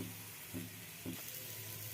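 Vegetables frying with spices on low heat, a faint continuous sizzle with two soft bumps of stirring, close but quiet, with no voices.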